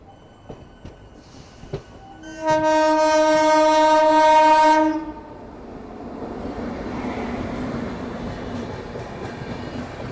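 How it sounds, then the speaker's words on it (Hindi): A passenger train approaches on a dedicated freight corridor near Ghaziabad Junction. A loud, sustained horn blast gives way to a steady rumble of wheels on track. "और सामने से कोई तो ट्रेन आ रही है।"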